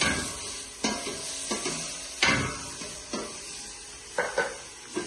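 Tomato puree sizzling in a hot pan, with a spoon scraping and clinking against it in irregular bursts.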